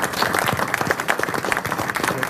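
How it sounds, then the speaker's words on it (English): A quick round of audience applause for Graham Lawler at a Future Energy Boston startup event in 2012, brief and fairly close, with dense overlapping claps. "So a quick round of applause for Graham."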